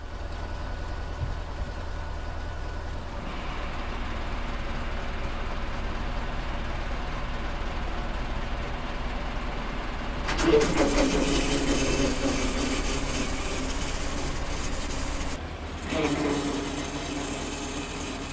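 A 1988 Chevy R30 one-ton squarebody dump truck, with a leaking PTO and hydraulics, idles with a steady low engine hum while its bed is raised, with two bursts of clattering, whining hydraulic mechanism noise partway through.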